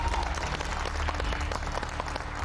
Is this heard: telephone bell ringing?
no